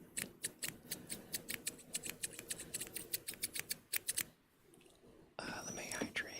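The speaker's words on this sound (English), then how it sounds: "Scissors, yes. Here's your haircut for the night." Scissors snip rapidly and crisply, close up, for a late-night ASMR haircut; a quick rhythmic run of cuts stops abruptly and gives way to soft whispering.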